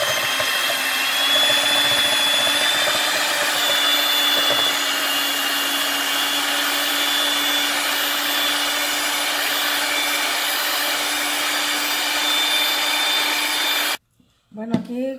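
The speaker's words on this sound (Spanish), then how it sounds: "ahora voy a batir las claras" An electric mixer whirs steadily and loudly for a long stretch, beating egg whites for a marbled loaf cake batter, then cuts off abruptly near the end.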